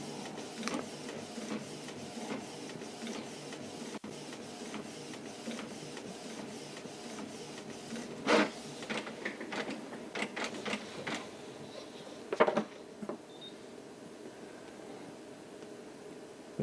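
Home printer with dried-out ink cartridges printing its first page: a steady mechanical whir and buzz of the print head shuttling back and forth, with a few louder clunks of paper feeding, close and without talk.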